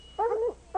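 A hunting dog on an Idaho mountain lion hunt gives two short whining, yelping barks, close and fairly loud, with no voices over them.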